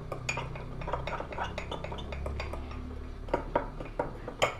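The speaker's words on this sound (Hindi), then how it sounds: "अच्छे से मिक्स करूँगी इसको मैं" A spoon stirs mug cake batter inside a mug, with repeated close scraping and clinking strokes in an irregular rhythm and a few louder taps toward the end, without speech.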